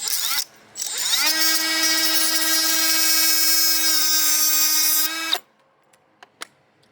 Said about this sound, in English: So I'm breaking the chain with the grinder here.